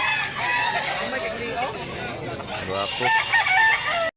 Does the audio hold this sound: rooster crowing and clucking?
yes